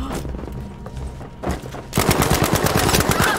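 Gunfire in the shooter Battlefield 5: a few scattered shots at first, then a rapid burst of automatic fire rattling in quick succession over the last second and a half.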